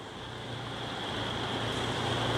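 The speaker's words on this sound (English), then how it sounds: "Oh boy, it is raining now." Rain falling on a 2003 Four Winds Five Thousand 26G Class C motorhome, a steady, even hiss of drops drumming on the roof with no voices.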